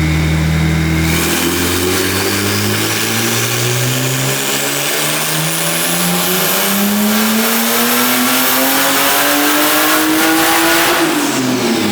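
A BMW 135i fitted with a big turbo and running JB4 Map 1 at about 17 psi wastegate pressure revs hard on a dyno, its loud engine note climbing steadily through a long continuous pull before dropping off at the end.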